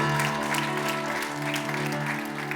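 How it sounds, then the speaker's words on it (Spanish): Loud church congregation applause, dense and sustained from start to finish, with a steady organ or keyboard chord ringing underneath throughout. "Denle un aplauso fuerte al Señor."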